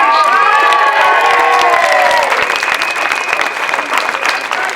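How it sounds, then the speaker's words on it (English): Crowd at a British Masters grasstrack motorcycle meeting cheering and applauding a young rider, a loud sustained roar of clapping and whoops close by, easing slightly but continuing throughout. "Are you ready to cheer the hat-trick man, ladies and gentlemen"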